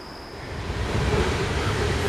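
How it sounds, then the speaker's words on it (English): Water rushing steadily through a stone raceway in the woods, a dense, continuous broadband wash heard up close with no voices. "I'm hearing water."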